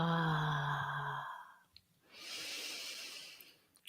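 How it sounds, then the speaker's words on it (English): A slow, deep breath drawn in through the mouth, followed by a pause and then a long airy exhale, quiet and close. "And with a deep breath in and exhale."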